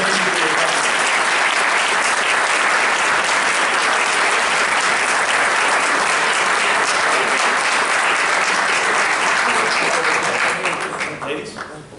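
Sustained, loud applause from a town board meeting audience, dense and steady for most of the stretch before it thins and fades near the end.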